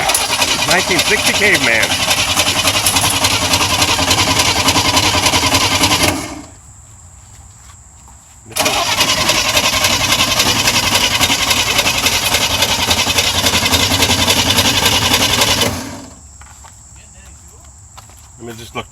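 A 1960 Corvair engine with a carburetor and fuel pump under repair is cranked by the starter in two long, loud, grinding bursts separated by a quiet pause. It does not catch, and a voice speaks briefly.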